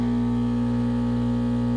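A used Keurig coffee maker kicking on loudly with a steady, droning hum that holds constant and fills the short stretch without any voices.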